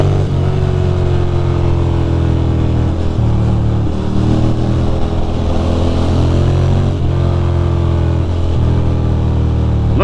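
Ducati Monster motorcycle ridden through New York City streets, a loud, continuous engine roar close by with repeated revving and gear changes rising and falling throughout.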